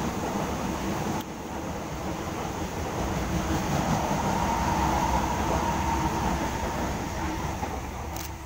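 An electric suburban train arrives nearby, a broad mechanical roar holding at a fairly constant level as it rolls in, with no voices.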